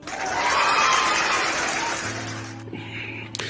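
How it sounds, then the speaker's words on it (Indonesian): An audience claps in a broad wash of applause that swells and then fades away after a couple of seconds, leaving a low hum. "kasih tepuk tangan dulu biar semangat"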